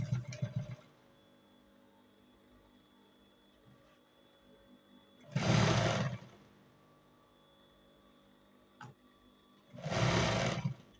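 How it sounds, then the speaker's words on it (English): A sewing machine stitches a shirt seam in a short opening run, then two more bursts of about a second each, with quiet pauses between them. "I'll take this part and sew round to the other end"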